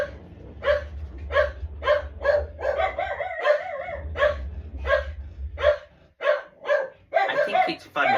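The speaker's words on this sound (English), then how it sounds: "I do apologise about my dogs barking." Dogs bark repeatedly nearby in sharp, regular bursts, with a low rumble of thunder underneath.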